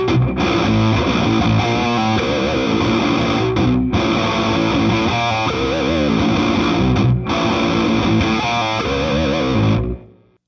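Heavy distorted electric guitar played through a Bad Cat Lynx-X Player Series 40-watt amplifier with two EL34 power tubes, loud and dense riffing with chugging palm-muted bursts, two brief breaks, then cutting off near the end; no talking.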